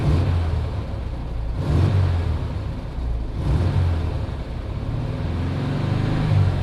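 Air-cooled VW Type 3 engine with dual carburetors idling steadily in its engine compartment, a continuous low rumble with gentle swells, while a large truck passes nearby.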